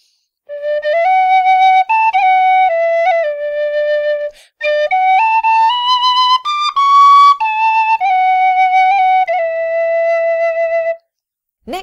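A tin whistle played from the side of the mouth gives a clear, breathy melody of stepwise notes, close and loud, with a brief pause midway.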